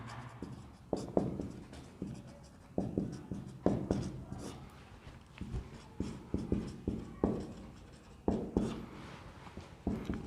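Pen or chalk scratches out a lesson in rapid bursts of short writing strokes, close and fairly loud, with brief pauses between words and no speech over them.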